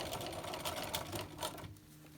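A sewing machine runs steadily while stitching quilt block pieces for a Drunkard's Path block, giving a close, fast mechanical whir that slows and then stops near the end.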